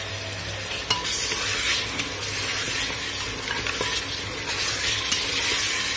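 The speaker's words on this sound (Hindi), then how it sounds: "अब हम इन सब्जियों को भून लेते हैं" Carrots, peas, cauliflower and potatoes being stir-fried in a pan over a medium flame, a steady close sizzle with scraping stirs and occasional clinks of the spoon against the pan.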